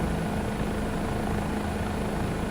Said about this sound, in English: let's get back in the chopper and we are going to take off here